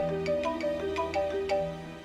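A phone ringtone plays a repeating electronic melody of bright beeping tones, steady and fairly close, with no one speaking over it.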